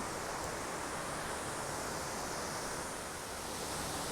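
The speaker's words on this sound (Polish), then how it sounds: "Doszliśmy do wodospadu." Rushing water from a waterfall makes a steady, even hiss that fills the whole clip without a break, heard alone with no voices.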